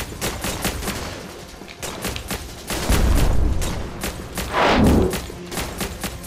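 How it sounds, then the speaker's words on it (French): Rapid bursts of gunfire crackle throughout, broken by two heavy booming explosions, loud and close, in G.I. Joe: Operation Blackout on Nintendo Switch. "il y avait une explosion qui était correcte"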